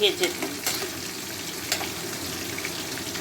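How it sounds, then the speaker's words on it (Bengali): Hilsa fish pieces fry lightly in hot oil, heard as a constant soft sizzle under a few sharp clacks at the start, with a brief splashy burst near the middle. "মাছগুলোকে আমি একটু হালকা করে ভেজে দিচ্ছি"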